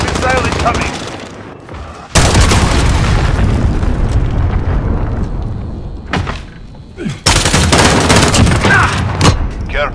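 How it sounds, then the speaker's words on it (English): Heavy cruise missile blasts roar through a Call of Duty Modern Warfare match: loud booming explosions with rumbling debris, bursts of gunfire and a brief lull before another massive impact, with game voices sounding over the chaos. "Enemy cruise missile incoming!"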